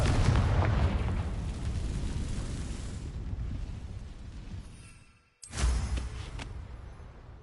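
A Confringo blasting spell detonates in a Harry Potter video game, a loud rumbling explosion that slowly decays over several seconds, cuts to a brief silence, then a second blast bursts in.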